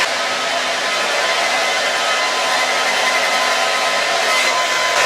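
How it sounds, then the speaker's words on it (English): A hair dryer blows steadily on hair, a loud, even whooshing roar with a faint motor whine, constant and close for the whole stretch with no talking. "And then I'm drying that into my hair."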